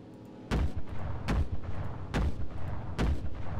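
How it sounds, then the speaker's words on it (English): Heavy cannon on a German tank or plane in the WWII shooter game Enlisted fires four loud, booming rounds at roughly even intervals, each blast trailing into a rumbling decay with no talk over it. "I love that cannon"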